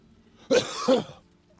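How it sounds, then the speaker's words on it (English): Two quick, rough coughs in close succession, close to the microphone, followed by quiet. "sorry for coughing in everybody's ears"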